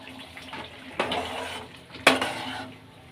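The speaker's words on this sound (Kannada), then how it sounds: "ಈಗ ಗಟ್ಟಿ ಮೊಸರು ಸೇರಿಸ್ಕೊಡೋಣ ಮಿಕ್ಸ್ ಮಾಡೋಣ" Thick curd being stirred into an onion gravy in a pan, with two distinct clanks and scrapes of a spoon against metal over a faint, quiet background.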